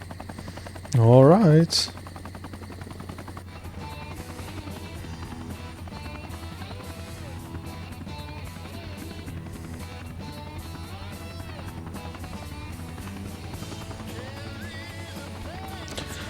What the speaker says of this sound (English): I feel like this Cobra was a very, very modern helicopter in its time.